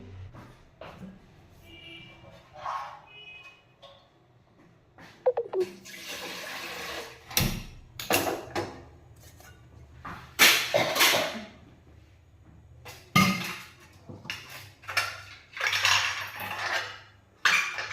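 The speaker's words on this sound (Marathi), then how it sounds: "आता सोडा टाकून मिक्स करून घेईल" Idli batter with oil, salt and soda being stirred and mixed in a metal vessel, giving close, irregular wet sloshing and scraping strokes with occasional clinks of the spoon against the vessel, with no speech.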